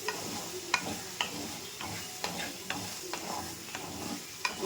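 Skin-on potato pieces sizzle steadily in a hot pan, with sharp periodic scrapes and clacks of a spatula stirring them, close and fairly loud.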